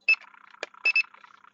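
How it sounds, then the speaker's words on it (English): Short electronic beeps from an Eachine E119 micro helicopter's remote controller as a shoulder button changes rates, a few clear high tones in quick succession, close and alone. "You can hear the little beeps."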